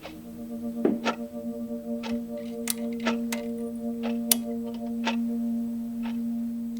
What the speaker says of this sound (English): The clock gets really loud at night.